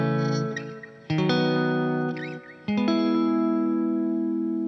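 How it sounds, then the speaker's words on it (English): Sustained electric guitar chords played with third inversions, shaped by distortion, chorus and effects. Three strums ring in turn, each held and sliding between voicings, loud and close with no voice. "when we do these with inversions of the third, right, we get a really cool, different melodic perspective on these chords."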